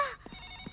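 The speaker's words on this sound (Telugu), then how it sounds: "అదిగో డాడీ ఫోన్ చేసినట్టున్నాడు" A telephone rings once briefly in a comedy film scene, a short electronic trill fading quickly, followed by faint room noise and soft thumps.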